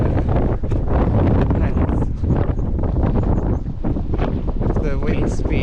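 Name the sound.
strong wind on clifftop coastal path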